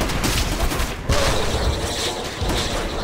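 Enemy machine gun fire in the video game Call of Duty: World at War rattles in dense, continuous bursts with heavy booms and battle noise throughout.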